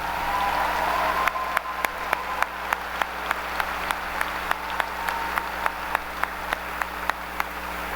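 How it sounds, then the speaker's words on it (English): At a Rosemount High School graduation ceremony, an audience claps for the concert choir and senior singers: distinct, evenly spaced claps ring out over a steady low hum in a large hall. "Let's give our concert choir and our senior singers one more round of applause."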